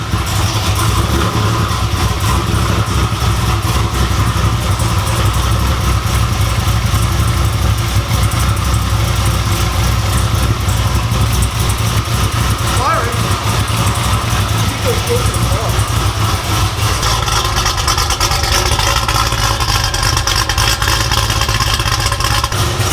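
A Chevy SS V8 engine runs steadily at idle close by, a loud, continuous low rumble, while people talk over it throughout.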